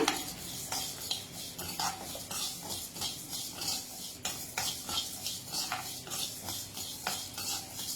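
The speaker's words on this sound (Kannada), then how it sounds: "ಪರಿಮಳ ಬರೋವರೆಗೂ ಇದನ್ನ ಡ್ರೈ ರೋಸ್ಟ್ ಮಾಡ್ಕೋಬೇಕು" Sesame seeds and cumin dry roasting in a pan, stirred steadily with a spoon, giving repeated scraping and rattling strokes with a faint crackle underneath, close and at moderate level, no talking.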